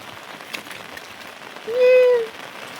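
Steady, soft rain patters throughout, with a short tonal whistle-like sound briefly rising above it partway through.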